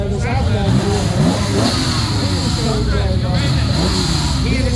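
The modified 2.7 MFI engine of a Porsche 911 revs and rises loudly close by, with climbing and falling engine tones mixed with crowd chatter and voices at an outdoor classic car event.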